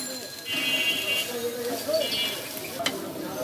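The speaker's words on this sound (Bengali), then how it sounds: "এখন ভালো করে ধনিয়া পাতার সাথে চিকেনের পুরটা মিশিয়ে দিব।" Chicken filling for cabbage rolls is stirred with coriander leaves in a pan, a soft sizzle with scraping utensil sounds and a sharp clink near the end, under a voice.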